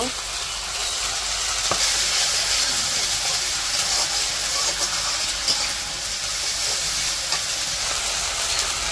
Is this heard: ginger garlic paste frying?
yes